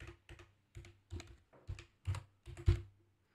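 Typing on a computer keyboard: short bursts of crisp, close key clicks in an irregular rhythm, with brief pauses between groups of keystrokes and no voices.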